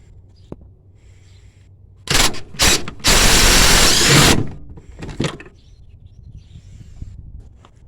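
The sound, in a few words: ratchet with swivel and extension removing bolt on Ford Crown Victoria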